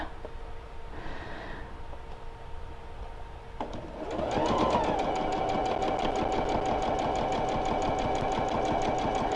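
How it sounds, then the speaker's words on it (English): A sewing machine stitching fabric with a quarter-inch foot starts up after a few seconds of quiet room sound, then runs in a fast, even, close mechanical whir that continues steadily to the end. "Okay, so we will go ahead and sew this one."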